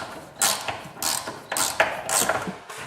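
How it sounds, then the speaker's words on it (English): Pivot screws are driven into a carved wooden shelf in a cramped spot, giving repeated close ratcheting, creaking turns in short bursts about every half second, fairly loud. "Because of the tight space on the left side, screwing the screw is not that straightforward."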